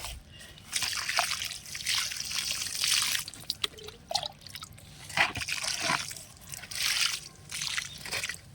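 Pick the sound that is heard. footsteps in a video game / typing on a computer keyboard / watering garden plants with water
watering garden plants with water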